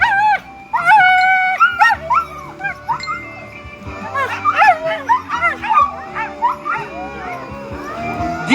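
Sled dogs at the start of a mushing race stage in Aussois bark, yip and howl excitedly in a loud overlapping chorus, close by and continuous, mixed with a commentator's voice.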